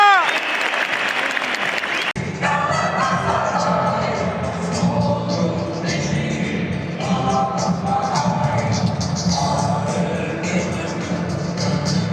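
Galatasaray stadium crowd at a match against Konyaspor applauding goalkeeper Muslera, a huge sustained roar of clapping and cheering that bursts in after a brief announcement and carries on loud.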